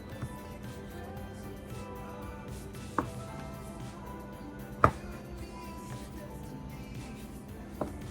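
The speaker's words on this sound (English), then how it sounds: "We'll grab our bench scraper and we're gonna cut this into 8 triangles" A bench scraper cutting scone dough into triangles on a counter, with a few sharp taps scattered across a quiet room background, each cut a brief close knock.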